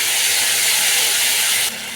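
Ginger garlic paste hitting hot oil just after whole garam masala, dried chillies and bay leaves were tempered, giving a loud, dense, continuous sizzle close by that drops abruptly near the end.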